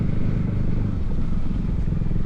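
Motorcycles of a motorbike community gathered at Legon Pari, Sawarna, make a steady low engine rumble that fills the scene, with faint clatter mixed in and no clear break.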